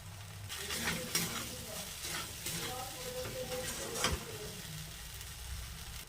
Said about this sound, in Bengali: এবার আমি নেড়ে নেব। ভালোভাবে এটা নাড়তে হবে, নাহলে দইটা কেটে যাবে।